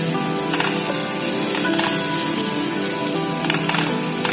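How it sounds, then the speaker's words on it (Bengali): Bitter gourd (karela) slices frying in hot oil, cooked until crisp: a steady, dense sizzle that stays loud and even throughout, close up with no talk. "করলা ভাজাটাও দেখুন তেল এখন ছেড়ে দিচ্ছে অল্প অল্প করে।"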